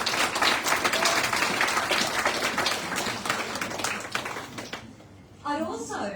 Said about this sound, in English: let's give a round of applause to all the artists